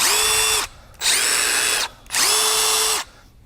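A Milwaukee Fuel cordless quarter-inch impact driver runs in three bursts, each a loud, rapid hammering whine with short pauses between, very close.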